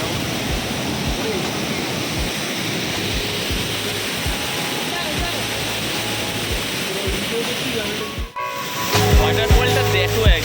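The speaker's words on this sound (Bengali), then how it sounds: "ওয়াটারফলটা দেখো একবার" Gundichaghagi waterfall near Keonjhar, pouring down through many separate streams, gives a loud continuous roar close by, with a thump near the end after which the sound grows louder and more cluttered.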